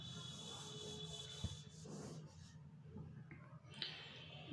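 Writing is rubbed off a classroom board with a soft, brushy scrubbing that runs steadily for a few seconds at close range, with a light knock partway through.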